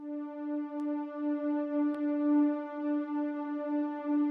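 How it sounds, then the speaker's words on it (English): A soft, mellow Virus synthesizer pad sample in Omnisphere holds one sustained note with rich, clear overtones, steady and alone, with a couple of faint clicks. "I'll select virus soft pad samples"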